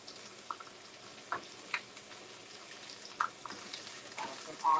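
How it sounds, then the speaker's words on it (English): Vegetables sautéing in a skillet, a faint low sizzle with scattered light taps and scrapes of a utensil, fairly quiet throughout. "We're going to saute them here in this skillet."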